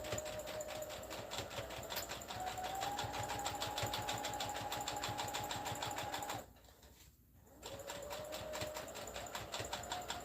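A sewing machine stitches steadily with a rapid, even mechanical chatter, close and alone, stopping briefly for about a second before resuming at the same pace.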